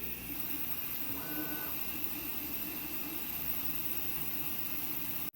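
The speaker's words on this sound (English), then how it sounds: "And that, my friend, is 200 millimeters a second on the bigger printer." A large 3D printer runs at 200 millimeters per second, giving a steady, loud mechanical whir and hum with faint whining tones, unbroken until a sudden cutoff at the end.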